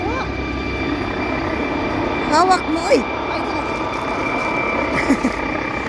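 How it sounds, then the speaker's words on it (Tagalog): A helicopter flies overhead with a loud, steady rotor and engine roar throughout, while people talk briefly over it. "Ay, maingay yung helicopter."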